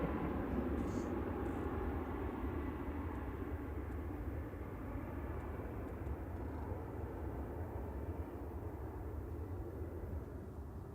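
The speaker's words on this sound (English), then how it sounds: "Air France E190 departing there, FHBLQ with flight 11169 to Paris Charles de Gaulle" An Air France Embraer E190 jet departs Manchester Airport, its engine roar a steady, broad, distant-sounding wash that holds for the whole stretch, fairly faint, with no talk.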